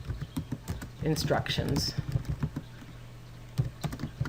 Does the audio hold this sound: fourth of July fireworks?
no